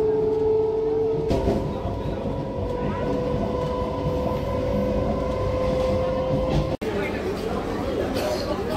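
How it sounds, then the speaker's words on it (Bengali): A passenger train pulls out of the station at Bogura and runs steadily, its continuous loud rumble and rolling noise carrying through the carriage with a sustained tonal whine and a brief sharp break near the end. "আমরা এই বগুড়া থেকে ট্রেনে উঠলাম আর এই জাস্ট ট্রেনটা ছাড়লো"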